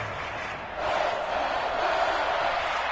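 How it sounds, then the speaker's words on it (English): A stadium crowd in an American football video game on PS4 roars in a dense, distant wash that swells louder partway through, with faint commentary underneath. "This crowd turning up the decibel level"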